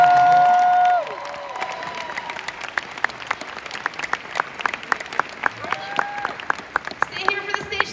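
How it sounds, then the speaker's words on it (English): Convention audience at a Q&A panel giving a round of applause, sustained crowd clapping with some cheering, after a brief sustained tone at the start and a faint voice near the end. "Round of applause."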